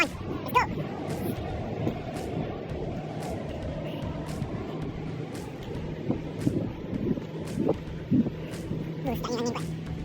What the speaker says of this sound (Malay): Sedap ni angin kuat.